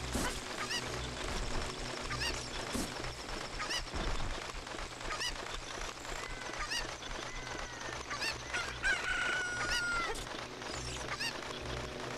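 Video game chickens from Zelda: Ocarina of Time squawk and cluck repeatedly over a dense, steady game soundtrack, the honking calls loud and continuous throughout.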